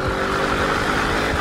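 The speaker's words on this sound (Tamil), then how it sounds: "இந்த கார் கொடுக்குற நாய்ஸ் சான்ஸ் இல்லை" A 2020 Audi RS7 engine holds a steady, loud, continuous growl at close range, droning without a break for the whole moment.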